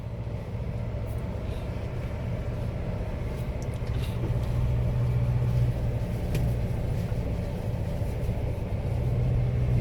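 Ford Ranger Raptor 2.0 Bi-Turbo crawling over rough off-road terrain, a steady low engine rumble with faint knocks and rattles from the body and suspension, heard from inside the cabin without talk.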